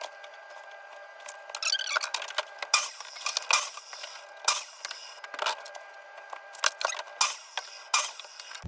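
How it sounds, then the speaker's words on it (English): Two-inch PVC pipe being cut into 30-inch lengths, heard as a series of close, sharp plastic snips and clicks in irregular bursts, with no voices. "Okay, so we cut our 6 30-inch long pieces."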